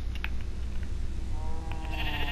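A sheep in Minecraft: PlayStation 4 Edition gives a wavering bleat that rises toward the end over a loud, constant low background hum, with a few faint clicks earlier.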